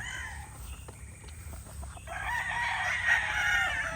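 Young gamecock stag crowing nearby at a farm, one drawn-out crow rising in the second half over faint background clucking and rustle.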